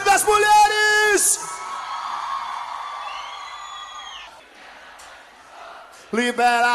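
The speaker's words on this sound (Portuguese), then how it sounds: "Cadê o grito das mulheres?" Women in a festival crowd at an Oktoberfest concert in Igrejinha, RS scream and cheer together, a sustained loud roar lasting several seconds between shouted calls from a man on the microphone.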